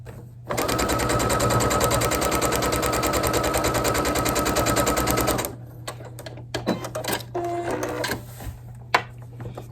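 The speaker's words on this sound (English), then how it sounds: "Now we're going to sew it right along that line" A sewing machine stitching a foundation paper pieced quilt block, a loud steady rapid mechanical whir for about five seconds, then stopping, followed by quieter handling clicks and rustles.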